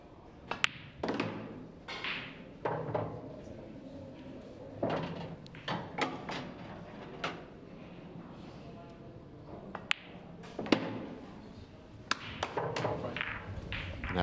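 Pool balls struck with a cue during a Pairs Cup match, giving a series of sharp clicks and thuds at irregular intervals, fairly close and moderately loud, with a faint room murmur underneath.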